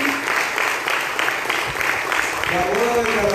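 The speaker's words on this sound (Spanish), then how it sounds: "vamos a darle un aplauso fuerte a todos los amigos que están aquí" Wedding guests inside a Pentecostal church burst into sustained applause, a dense wash of clapping that carries on with a voice talking over it toward the end.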